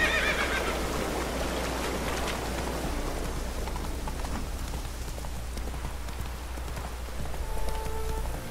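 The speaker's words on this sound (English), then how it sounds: "Whoa there, Roach." A horse neighing in The Witcher 3: Wild Hunt, Blood and Wine: a brief whinny at the start over a steady bed of rain-like game ambience and low rumble that continues for the rest of the clip, with a faint tone near the end.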